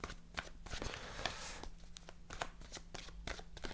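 Tarot cards being shuffled by hand for a three-card spread, a quick run of crisp riffling flutters and soft slaps close by, with no talking.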